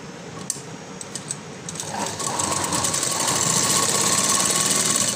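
A sewing machine stitches the second seam of a floral frock, starting with light, uneven mechanical ticks before settling into a loud, steady, continuous whirr for the rest of the stretch, with no talking.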